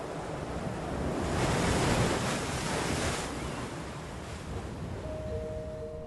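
Ocean waves wash against the shore at the Channel Islands with wind buffeting the microphone, a broad roaring surge that swells to a peak midway and then eases back, loud and alone with no voices.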